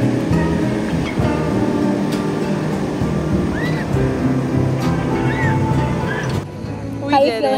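Pacific surf at La Push beach, Washington, rolls in a steady broad roar on a cool day, with people talking and calling out over the waves.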